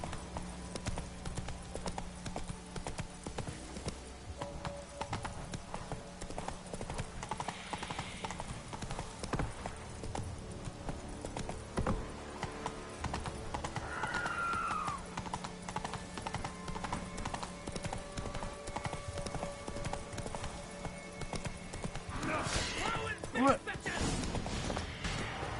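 Roach the horse gallops with a steady, continuous clip-clop of hooves in The Witcher 3, loud and close throughout, with occasional snorts and a speaking voice mixed in.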